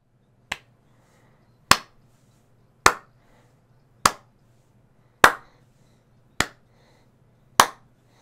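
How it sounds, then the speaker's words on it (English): Seven sharp single claps, evenly spaced about a second apart, crisp and close with silence between each. "I don't know if clapping is really vocalizing"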